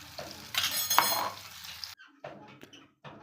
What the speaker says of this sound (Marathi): आणि ही पेस्ट 1 मिनिटभर अशी छान परतून घ्यायची आहे तेलामध्ये.